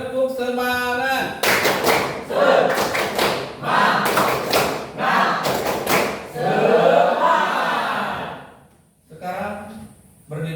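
Schoolchildren repeat the rhythmic 'tepuk semangat' clapping cheer in class, loud patterned bursts of hand claps in short groups, with voices chanting and a teacher talking between rounds.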